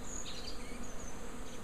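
Honey bees buzz steadily around a small hive after being moved in from a swarm basket, a continuous close, even drone with no voices.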